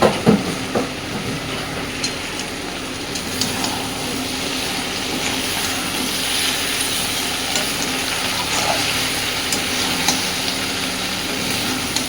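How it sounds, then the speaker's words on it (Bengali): Spiced shrimp masala stir-fried in a pan gives a steady close sizzle with scraping stirs and a few sharp clinks of a spoon near the start. "দেখেই বুঝতে পারছেন কষানোটা কি সুন্দর হচ্ছে তো আরও একটু সময় নিয়ে ভালোভাবে কষাতে হবে"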